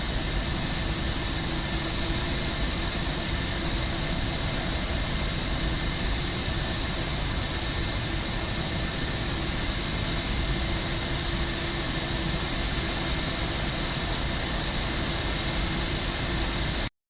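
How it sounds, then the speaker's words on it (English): A Boeing 737 MAX stands at an airport gate amid loud, steady aircraft engine roar, a broadband noise filling the whole stretch at constant level until it cuts off abruptly at the end, with no speech. "I don't think we're going to hear it because of all the other loud engine noises around us"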